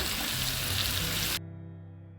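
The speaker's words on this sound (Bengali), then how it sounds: "এবার আলুগুলো দিয়ে দেওয়া হচ্ছে চিকেনে।" Potatoes added to chicken cooking in a pan with little oil give a loud, dense sizzle that cuts off abruptly after about a second and a half, leaving only a faint low hum.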